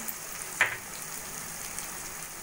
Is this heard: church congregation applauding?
no